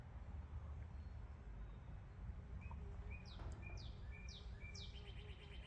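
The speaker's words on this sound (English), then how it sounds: "Our bird is back" A bird calls outdoors near an apple tree, a series of faint, repeated whistled chirps over steady low background rumble.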